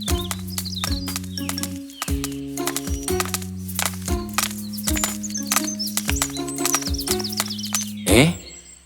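A donkey carrying a rider in a children's cartoon tale, its hooves clip-clopping in a steady walking rhythm over loud background music.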